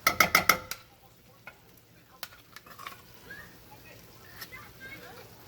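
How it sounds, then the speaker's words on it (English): Taco meat sizzling in a hot pan with a few sharp clatters of a utensil at the start, then a quieter steady crackle with occasional taps. "You hear it cooking, it's already going."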